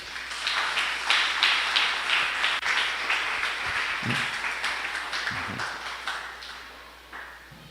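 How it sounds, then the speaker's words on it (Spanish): A church congregation applauds during a Spanish-language sermon with sustained, dense clapping that holds steady for several seconds and then thins out toward the end. "Dale un aplauso a Dios."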